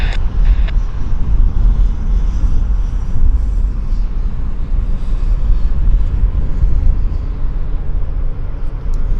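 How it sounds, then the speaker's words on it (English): A Convair 580 turboprop airliner takes off from Vancouver Airport, a loud steady low engine roar filling the whole stretch, heard from a distance outdoors with no other sounds standing out. "Convair 580, airborne."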